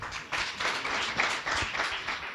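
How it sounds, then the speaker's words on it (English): Audience applause for conference panelists at a discussion on cross-border opportunities for women and youths across the EAC, a steady, dense wash of many hands clapping that holds throughout, moderately loud with no talk over it. "A round of applause for our panelists"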